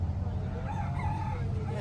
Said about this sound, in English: And we have the rooster keeping an eye on the coffee beans.